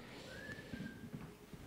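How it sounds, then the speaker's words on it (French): A technician's phone gives a whistling notification: a single thin, rising-then-level whistle tone lasting about a second, faint and set against a low room murmur in an office-like space. "c'est le téléphone de notre technicien qui siffle"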